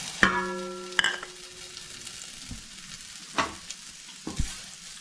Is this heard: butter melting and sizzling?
yes